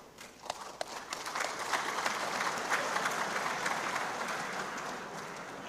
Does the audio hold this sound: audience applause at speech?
yes